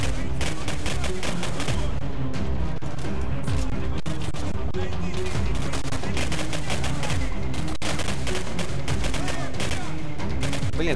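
Assault rifle gunfire in the shooter game Singularity, dense rapid bursts and shots rattling almost continuously, loud and close, with heavy booming impacts layered underneath throughout.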